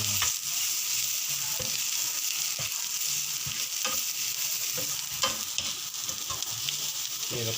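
Mustard seeds crackle and sizzle steadily in hot oil as they are stirred in a pan for tuna and anchovy sambal tumis, with frequent small pops and scraping stirs over a constant frying hiss, close and fairly loud.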